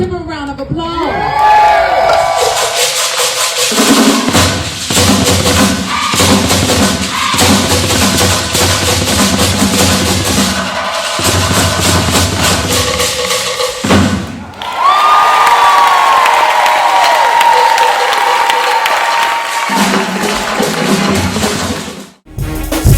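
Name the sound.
crowd applause and cheering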